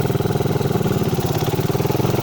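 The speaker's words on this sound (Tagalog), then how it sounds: "Lakas ng pagkakatono ng motor niya." A carbureted Raider 150 motorcycle engine runs steadily and loudly up close, its rapid throbbing pulse holding an even, rough mid-pitched drone throughout.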